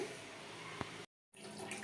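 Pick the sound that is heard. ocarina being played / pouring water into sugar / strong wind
pouring water into sugar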